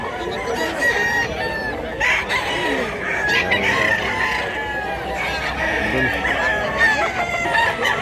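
Many chickens and roosters at a crowded Mantalungon, Cebu poultry market crow and cluck in a dense, continuous chorus, some calls close and others distant, with a crowd murmuring underneath.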